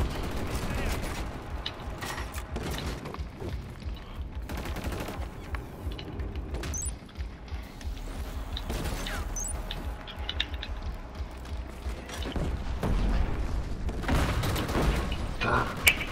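Gunfire in Killzone Shadow Fall, aimed at a turret during a Domination match: repeated bursts of rapid automatic shots with heavy booms, loud and close, running in clusters throughout alongside game mechanisms.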